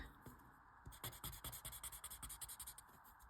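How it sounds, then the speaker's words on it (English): A blending stump rubs pencil shading smooth on paper with quick, soft back-and-forth strokes, close and quiet, in a steady rhythm. "I'm just smoothing this out with my blending stump"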